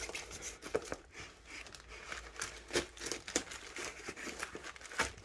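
Scissors cut open the plastic and paper packaging of an unboxed diamond painting kit, with soft crinkling and rustling broken by sharp snips and handling noises, close and quiet.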